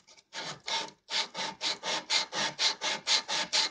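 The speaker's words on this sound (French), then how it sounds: "Donc on garde bien l'angle qu'on avait au départ avec la lime." Hand file rasping along a steel knife blade during knife making, a series of about a dozen rhythmic, close, loud strokes with brief gaps between them, no voices.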